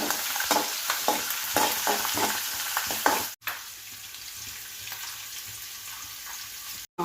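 Garlic and green chillies frying in a pan: a loud, close sizzle with a string of stirring scrapes and taps early on, then a steadier crackle after a brief break.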